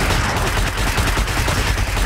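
Dense, continuous rapid gunfire in the video game Destiny 2, a loud unbroken rattle filling the whole stretch.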